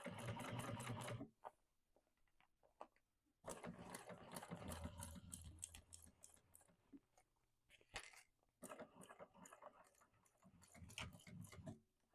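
A sewing machine topstitches through a bag's loop, lining and exterior, running in rapid bursts of close, ticking stitches separated by short pauses.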